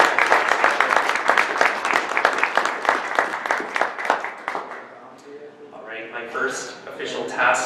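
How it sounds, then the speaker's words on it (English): Conference audience applauding, a dense burst of many hands clapping that fades out after several seconds, with people talking over the tail end. "So a big round of applause."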